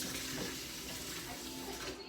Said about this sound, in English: Give it another rinse of cold water and let it sit.